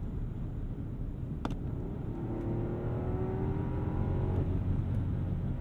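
A 2022 Rolls-Royce Cullinan with a twin-turbo V12 accelerates hard from rest in low drive mode, heard from inside the cabin as a subdued, smooth rising engine note over a steady road rumble.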